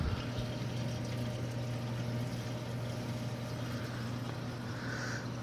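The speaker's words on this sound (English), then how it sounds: "you see how it's gurgling. That's the only downfall with a gravity fed sump" Water gurgling through the drain of a gravity-fed sump on a 29-gallon aquarium: a continuous close hum and bubbling wash, steady and fairly quiet throughout with no voices.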